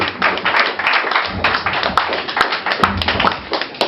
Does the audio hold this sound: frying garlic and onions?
no